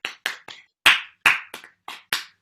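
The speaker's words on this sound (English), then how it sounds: "Give yourselves a huge round of applause." A small group claps in a brief, loose round of applause after a fancy dress yoga class, about eight separate sharp hand claps scattered irregularly across a couple of seconds, close and fairly quiet.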